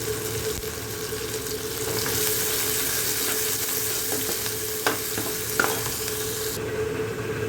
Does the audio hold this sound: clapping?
no